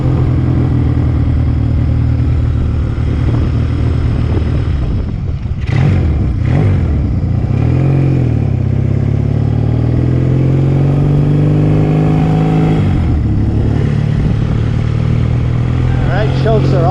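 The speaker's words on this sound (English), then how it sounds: "Got the same exhaust as the other two bikes, but this one's the loudest for some reason." A vintage motorcycle idles and revs loud and close, its exhaust booming with rising and falling engine sweeps and several sharp throttle blips, running steadily throughout, no talk over it.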